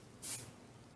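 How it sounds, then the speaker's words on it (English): A quick burst of hairspray misted onto styled hair, one short soft hiss lasting a fraction of a second in an otherwise quiet room. "And then just spray it with hairspray."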